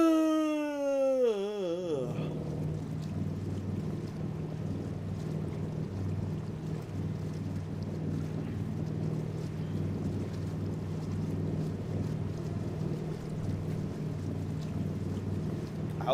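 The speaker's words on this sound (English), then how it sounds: "I hope you guys like the sound of engines and running water." A boat's engine in Fallout 4 drones steadily with rushing water after a brief tonal sweep at the start, the low rumble continuous and even throughout with no talking.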